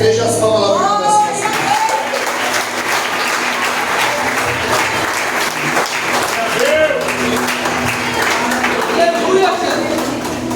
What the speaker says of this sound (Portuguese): as palmas lá para nós